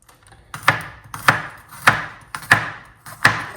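A single garlic clove chopped with a knife on a board, five crisp, evenly spaced chops, close and clear with no talk.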